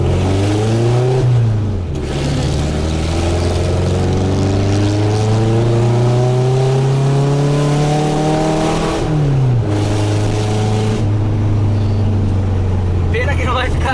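A Volkswagen Fusca (Beetle) engine with no muffler revs loud and raw, rising in long climbing sweeps, dropping back, then rising again, close and harsh from start to finish.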